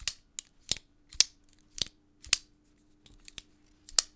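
A heavy-bladed Benchmade pocket knife is flicked open and snapped shut over and over, giving sharp metallic clacks roughly every half second, close and crisp against a faint steady hum.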